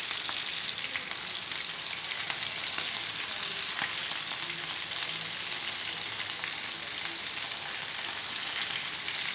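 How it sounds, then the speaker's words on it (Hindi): Aloo tikki, potato patties, shallow-fry in a pan with a dense, even hiss of bubbling oil that holds steady throughout. Faint, occasional ticks break through, and no voices are heard. "इसी तरह हम दूसरी साइड से भी गोल्डन फ्राई होने देंगे।"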